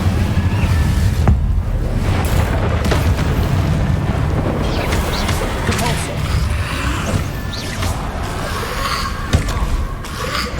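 Incendio fire spell being cast in the video game Hogwarts Legacy, a loud, dense roaring burst of flame and crackling impacts that runs continuously for several seconds amid other game sounds.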